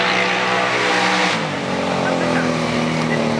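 A Can-Am with a CVT gearbox races at a rally sprint, engine droning steady and high with no gear changes, tone dropping slightly midway, continuous and fairly loud throughout.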